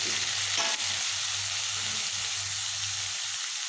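Cut papaya pieces for a vegetarian papaya-potato dalna fry in oil left from frying potatoes, giving a loud, dense, continuous sizzle up close, with a quick clatter early on and a low hum underneath.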